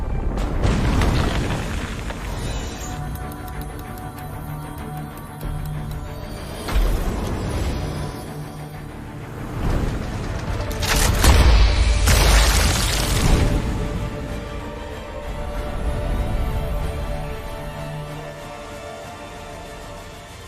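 Heavy cannon blasts in an animated cartoon battle, several deep booms spread across the stretch with rumbling bursts and crashing debris in between, loud and close with mechanical clatter.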